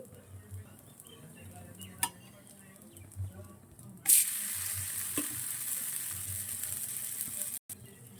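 Food frying in a pan as it is flipped to the other side: a low background sizzle with a few soft scrapes and clinks, then a bright, loud hiss as the food lands.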